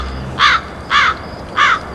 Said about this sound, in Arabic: ده غراب.